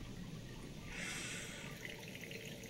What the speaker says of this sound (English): Oh, why is the water on?